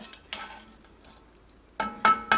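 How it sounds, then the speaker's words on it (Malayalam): Avial, a Kerala Onam sadya dish of vegetables with coconut, is stirred and mixed from the bottom of a pot, giving a few short scraping, clattering bursts of spoon against metal, close and fairly loud, with no talk. "അടിയിൽ നിന്ന് ഒക്കെ നന്നായിട്ട് മിക്സ് ചെയ്യുക."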